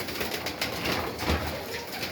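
An old pigeon gives a short, soft coo against a steady background hiss.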